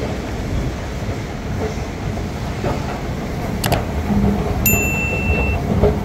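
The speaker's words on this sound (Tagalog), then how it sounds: "Ito yung sasakyang MRT papunta sa work ko" Singapore MRT train at Paya Lebar station: a steady, moderately loud rolling rumble of the train, with a couple of brief sharp clicks and a short high tone near the end.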